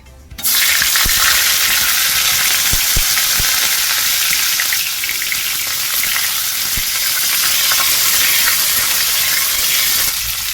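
Loud, continuous sizzling of cut vegetables such as cauliflower and pointed gourd frying in hot oil, with a few sharp crackles and pops scattered through the steady hiss.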